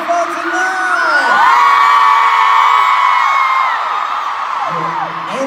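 A large outdoor concert crowd at Soldier Field in Chicago cheers, screams and whoops loudly and continuously in cold, rainy weather, with high-pitched shouts rising above the roar.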